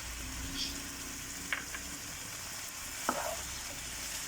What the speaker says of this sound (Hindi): और साथ साथ इसको फ्राई करते जाएंगे।